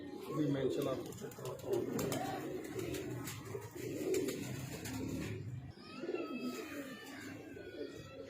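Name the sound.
pigeons cooing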